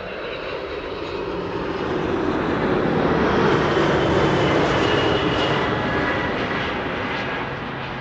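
A DHL Airbus A300-600 cargo jet arrives at Amsterdam Schiphol from Luton, its engine noise swelling to a loud, broad roar mid-pass and then easing slightly, with no voices over it.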